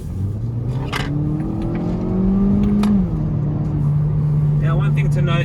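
A 2021 Hyundai i30 N Line with a DCT gearbox accelerates in sport mode, its engine note rising steadily and then settling into a moderate hum beneath road and cabin noise.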